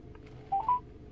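A phone call to voicemail is dialed over a BMW Bluetooth car connection, with two short, clear dialing tones in quick succession against a quiet, low background hum.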